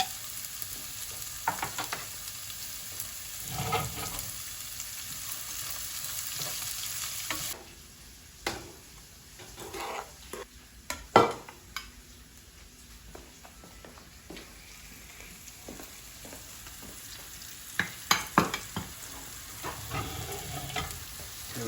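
Chopped onion fries in ghee in a pan, a steady close sizzle broken by scraping stirs and occasional clinks, with no talking.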